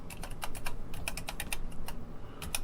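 Rapid, uneven keystrokes on the basic keyboard of a CT-1024 computer terminal kit, a close run of sharp clicks with short pauses and no talking.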